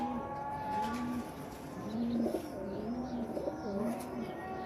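Low, soft cooing from breeder pigeons repeats several times over a steady outdoor murmur, a few calls overlapping at moderate distance.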